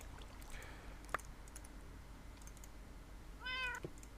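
Cat meowing in Minecraft, two short faint mews over a quiet game background with soft clicks, the second a longer rising call near the end.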